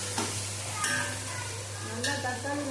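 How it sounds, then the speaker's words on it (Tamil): Tomatoes sautéing in a pan make a gentle sizzle, with two or three brief scraping strokes of a spoon as they are stirred, over a steady low hum. "தக்காளி நல்லா வதங்கட்டும்."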